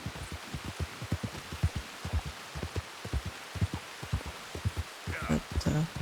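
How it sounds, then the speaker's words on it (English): Rain falls in the video game Red Dead Redemption 2, with irregular heavy drops and thumps over a steady wash, and a brief voice near the end. "Although if it is that cold, it should not be raining."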